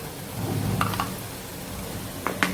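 Onion sizzling in a hot pan while cooking Maharashtrian-style dry prawns, a steady soft crackle and hiss with a few sharper clinks of a utensil, no one talking.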